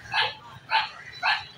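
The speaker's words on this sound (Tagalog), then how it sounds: "Maingay yung aso." Three sharp dog barks at a steady rhythm, fairly close, with quiet background noise between them.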